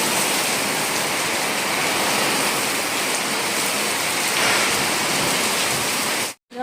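Heavy rain pours down in a steady, dense broadband hiss that holds loud and unbroken, cutting out briefly near the end before resuming.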